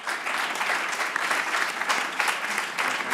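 An audience on a Catalan television word-game show breaks into a strong round of applause, even and sustained clapping for a few seconds with no talk over it.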